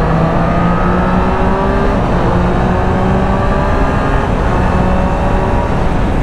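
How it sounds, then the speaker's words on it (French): A 2023 Triumph Street Triple RS three-cylinder motorcycle pulls away in traffic, its engine droning loud and steady with a sustained tone throughout, and no talking. "La moto elle part toute seule."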